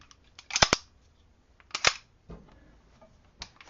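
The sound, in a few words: inserting a magazine into a gun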